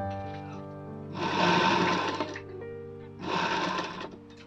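A sewing machine stitches a princess-cut blouse in two short bursts of fast, whirring, mechanical running, with a quieter hum between them.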